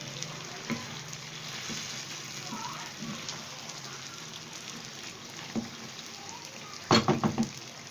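Chicken karahi with chopped coriander and green chillies stirred gently in a sizzling pan, steady frying crackle beneath soft scraping, with a few louder utensil clatters near the end.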